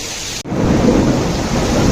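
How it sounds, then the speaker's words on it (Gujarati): A thunderclap cuts in sharply and is followed by a loud, steady roar of heavy rain during a thunderstorm in Rajkot, with hail also falling, and the downpour continues close and constant. "ઓ બહુ કડાકા ભડાકા થયા."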